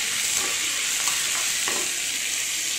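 Chopped onion sautéing in a pan for an Indian side dish, a steady loud sizzle and hiss with a few soft scrapes of stirring, no voices.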